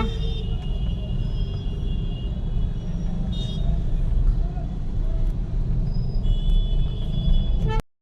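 Evening street traffic in Allahabad, India, with a steady roar of passing cars, trucks and buses and a few short car horn toots rising over the rumble, close and continuous throughout.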